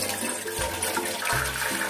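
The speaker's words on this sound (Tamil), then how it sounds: "இப்போ இதில் 2 டம்ளர் தண்ணி போட்டுக்குவோம்." Water pours steadily into a pan for rasagulla syrup, a continuous splashing gush filling the whole short stretch with no talk.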